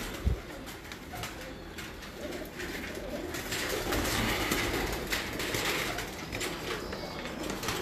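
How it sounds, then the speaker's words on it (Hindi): Large racing pigeons from a Sialkot flying-squad loft coo in soft, repeated low calls. The cooing overlaps and continues steadily against a rustling background, with no talking. "ये उनके बड़े कबूतर हैं, आपको मैं अब दिखा रहा हूँ"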